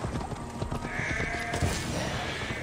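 Horse in the Assassin's Creed Valhalla video game, hooves clopping in a steady rhythm at moderate distance, with a brief whinny-like cry over a busy game-sound background.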